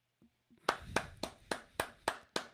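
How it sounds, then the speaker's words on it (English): Audience applause at a leadership talk, heard as a short run of about eight sharp, evenly spaced claps, close and fairly faint, like a small number of hands clapping together. "One more big round of applause."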